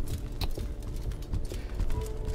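A hulking creature in Exanima stomps along with heavy, repeated thuds at an uneven pace, loud and near, with no voices over the footfalls.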